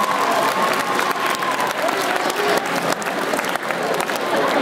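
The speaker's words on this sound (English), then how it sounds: "Let's just give everybody a round of applause for all the acts today." A high school talent show crowd in an auditorium bursts into loud, sustained applause for all the acts, dense clapping with a murmur of cheering throughout.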